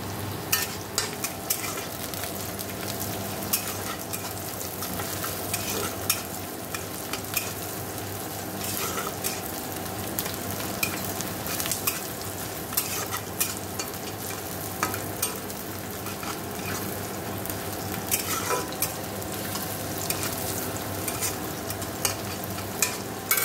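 Chowmein stir-frying in a home kitchen pan, a continuous sizzle and hiss with frequent scraping and tossing clicks of the spatula, close and steady throughout with no talking.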